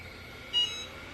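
A heat press gives a single short electronic beep once, clear and high-pitched, over a quiet room hum.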